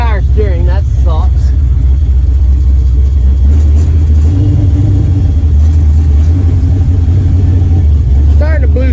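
A 1979 Camaro's engine rumbling steadily as the car rolls along, a loud low drone throughout with slight rises in pitch, while people talk over it.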